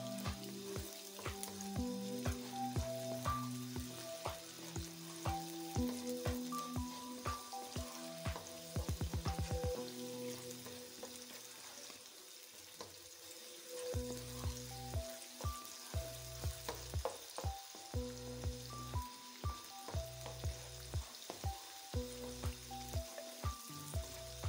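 Chopped onions fry in a pan for a mutton keema with peas and potatoes, giving a steady close sizzle with repeated scraping stirs and a brief quieter stretch midway; background music plays throughout.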